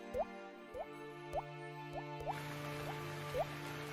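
Water drips from a roof leaking in heavy rain into a house, falling as single plops about every half second, close and fairly quiet over a steady low hum, with a soft hiss of rain rising partway through.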